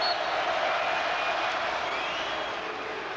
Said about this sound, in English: Crowd trying to get into it again.